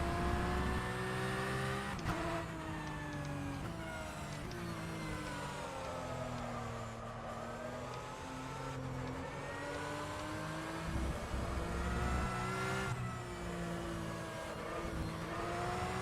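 A Porsche 911 Cup car racing at Spa in rFactor 2, its engine droning steadily at high revs with sharp gear-shift dips, brief lifts and climbing revs repeated throughout, close and continuous with no talk.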